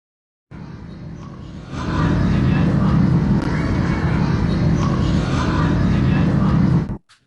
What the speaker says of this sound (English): Sound of Israeli plane.